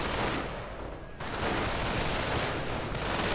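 Game gunfire from a World War II strategy match: a BAR rifle blasting away at riflemen alongside sniper shots, a dense continuous rattle of close shots filling the whole stretch with no talk.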